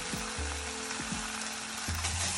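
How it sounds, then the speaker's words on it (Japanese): Chicken pieces sizzle and fry in a pan for a butter chicken curry, a steady dense crackle close up with brief stirring knocks and scrapes, no talking. "ちょっと鶏肉をね軽く炒めましょう。"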